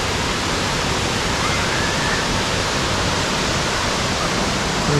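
A waterfall along NC Scenic Byway 64 in North Carolina roars as a loud, steady broadband rush from its base, with no other sounds rising above the water.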